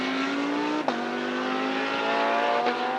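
Porsche GT race car climbing a hill at the Barcelona circuit, a steady loud engine drone with a brief gear-change dip, close and continuous.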